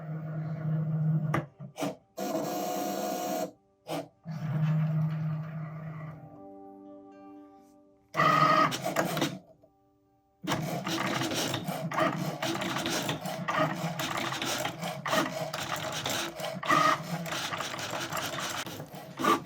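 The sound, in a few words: Cricut cutting machine cutting Smart Vinyl X's and O's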